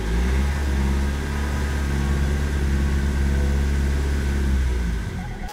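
BMW E46 with the M47N diesel engine revved to about 2000–2500 rpm, a steady loud rumble and drone that holds for several seconds before dropping off, with no voices.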